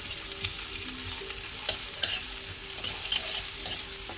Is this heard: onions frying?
yes